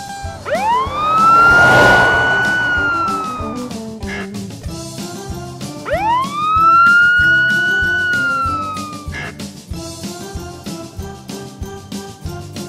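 A police car siren wails in two long rising-and-falling sweeps, loud and close, with a short gap between them and nothing else over it.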